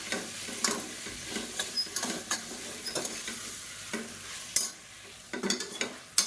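Mutton pieces sautéing in a pan, heard close as a continuous sizzle broken by repeated scraping and clinking of a spoon as the meat is stirred, with no talking.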